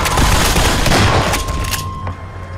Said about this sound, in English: What are they firing at now? They're firing into the sky.